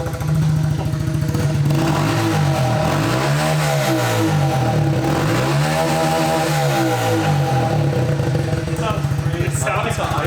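Nissan 180SX engine revving in repeated swells, rising and falling twice over a steady idle, loud and close, with people talking alongside.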